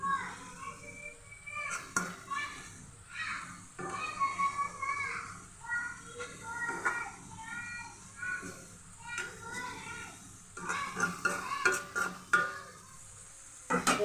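Egg curry being stirred as it cooks in ghee, with intermittent scraping and clinking of a spoon against the pan over a soft sizzle, and voices and children's chatter in the background.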